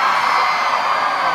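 A packed country concert crowd lets out a loud, continuous scream on cue after a countdown, a dense roar of many voices holding steady throughout.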